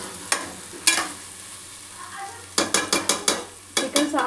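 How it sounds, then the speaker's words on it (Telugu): Chicken for a Warangal-style sengala curry fries in a pan under low sizzling, while a metal spoon scrapes and knocks against the pan in sharp clusters of rapid strokes, several quick hits in a row near the end. "ఒకసారి మళ్ళీ మంచిగా ఫ్రై అయింది చికెన్."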